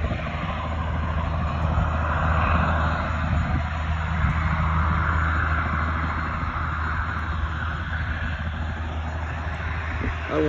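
An airplane takes off nearby, a steady, loud roar of engine noise holding for the whole stretch without any letup.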